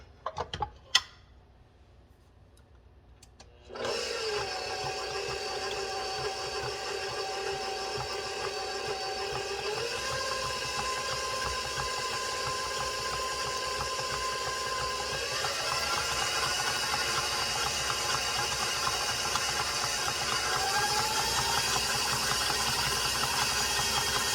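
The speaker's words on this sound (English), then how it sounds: "we're going to take the whisk attachment and we're going to whisk this together in this mixing bowl." An electric mixer with a whisk attachment whirs steadily after switching on, a close, continuous motor hum that shifts pitch slightly partway through while mixing dry cake ingredients in a bowl.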